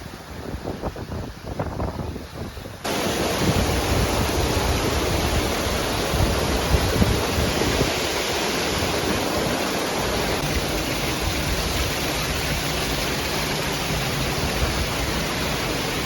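Heavy rain feeds a powerful waterfall at the Kanheri caves, its steady roar rising abruptly after a few seconds of softer ambience and then holding loud and continuous to the end.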